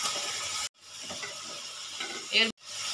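Onion paste and chopped tomato sizzle in a pan while being stirred, giving a close, steady hiss with scraping stirs, broken by two short cuts to silence.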